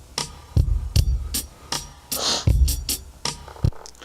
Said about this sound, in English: So my drums sound like this.